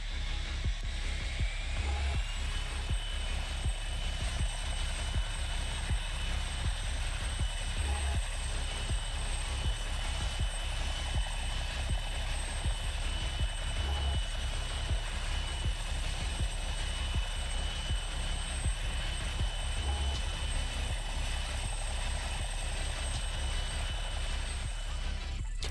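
A big helicopter in the video game Warlords 2 flies steadily nearby, its rotor thumping in an even, rapid beat under a constant engine whine that holds for the full length at a loud, unbroken level.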